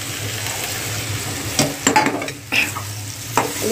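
Masala okra (bhindi) sizzles in a pan as a spoon stirs and scrapes it through the spices, a steady frying hiss broken by several sharper utensil clinks close by.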